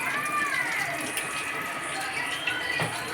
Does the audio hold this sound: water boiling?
yes